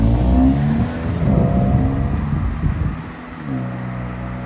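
An Audi S3 pulls away, its engine rumbling loudly and steadily up close before easing off slightly as the car moves off, with no talk over it.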